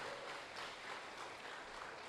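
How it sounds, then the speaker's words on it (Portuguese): A church congregation applauds during a Christmas celebration service, a steady wash of clapping that holds at an even level for about two seconds with no voice on top. "Vamos aplaudir ao Senhor."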